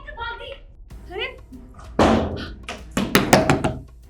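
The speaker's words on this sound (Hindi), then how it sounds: "लक्ष्य इसने दरवाजा बंद कर दिया" A house door is shut with a solid thud, followed by a quick run of knocks, amid excited voices.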